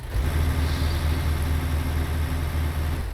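A semi-truck engine in American Truck Simulator rumbles steadily at low idle-like revs while the rig reverses to line the tractor up with its trailer, a continuous loud drone with no gaps.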